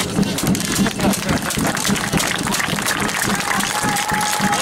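Crowd at an American football game between Ljubljana Silverhawks and Budapest Wolves applauding the Hungarian players, a steady wash of clapping and crowd noise with talk over it.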